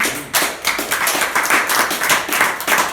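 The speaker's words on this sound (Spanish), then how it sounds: "Vamos a aplaudir." A congregation at a church sermon claps loudly in a steady, rhythmic beat. Sharp hand strikes repeat evenly for the full three seconds with no talk over them.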